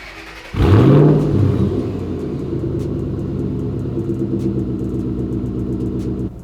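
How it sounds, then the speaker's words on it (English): A Mustang GT with a Roush stainless steel cat-back exhaust starts with a loud rev, then settles into a steady, deep rumbling idle close by. "see how this Roush system sounds"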